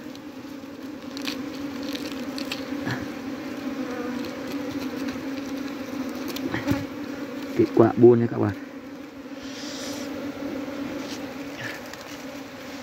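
Honeybees buzz around a large honeybee nest, a continuous close drone with a few louder passes, while someone talks intermittently over it.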